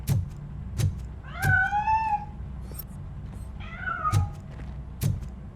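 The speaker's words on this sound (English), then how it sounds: "That cat must be hiding inside." A cat meows twice in a game, Robocop: Rogue City, with drawn-out, wavering cries standing clear above a low rumbling background and a few soft thumps.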